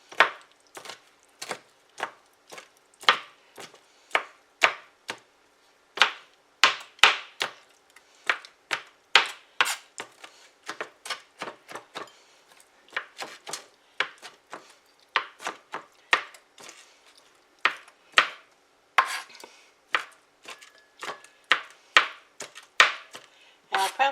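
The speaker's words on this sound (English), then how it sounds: "now I'm just going to take a knife and chop these up" A knife chopping food on a board, many sharp close taps in quick irregular bursts, loud and clear with no talk.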